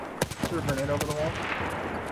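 Gunfire in Escape from Tarkov, a few sharp shots in quick succession early on, followed by fading echo and a lower background rumble, with someone talking over it.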